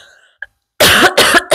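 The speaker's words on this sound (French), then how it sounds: "Parce que je tousse encore." A person coughs twice, loud and close, two harsh bursts after a short quiet pause.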